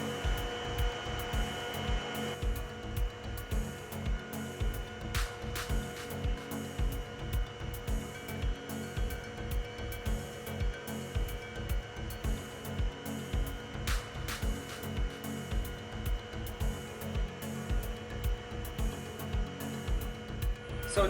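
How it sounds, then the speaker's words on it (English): An engine runs steadily during a calibration routine, producing a constant droning hum with a regular pulsing beat throughout and no talk over it. "So engine is started now."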